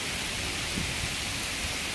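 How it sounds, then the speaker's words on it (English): Steady hiss of rain or small hail pattering down during a severe thunderstorm, a continuous broadband wash with faint low rumbles, heard alone without voices. "Those could be raindrops though."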